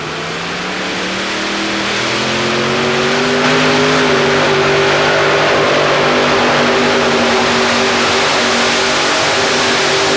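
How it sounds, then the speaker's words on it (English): A modified pulling tractor driven by four Chevy 454 cubic-inch engines roars loud and close at an indoor tractor pull, its engine note climbing steadily as it strains through the run with no voices heard. "This is Fred Freeman in the Mean Mistreater with 4 Chevy engines, 454 cubic inches apiece."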